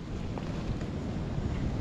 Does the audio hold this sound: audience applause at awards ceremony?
no